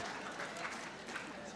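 An audience at a debate on religion applauds, a faint, steady wash of clapping from a crowd heard at a distance.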